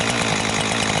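A Jonsered 2156 chainsaw runs close by after a carburetor rebuild, its two-stroke engine holding a loud, steady, buzzing rev.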